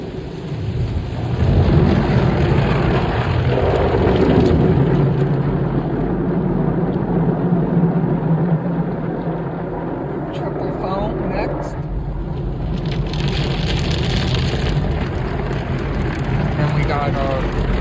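Pre-soak spray jets blast car wheels inside an automatic car wash in Franklin Park, a loud continuous rushing hiss that swells and eases, with muffled machinery beneath.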